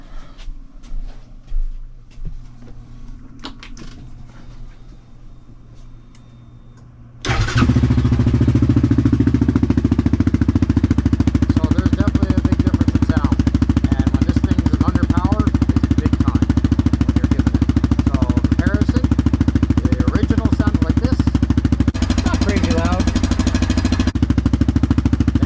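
A Yamaha Grizzly 700 ATV with a Barker's exhaust and the quiet core removed fires up after quiet handling noises, then settles into a loud, steady, rumbling idle that runs unbroken and close by.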